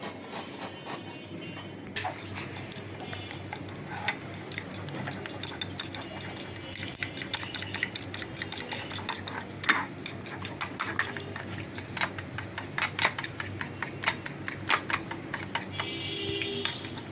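Potatoes and okra being chopped with a knife, a rapid run of sharp, closely spaced taps on a board that carries on steadily throughout, fairly close and moderately loud.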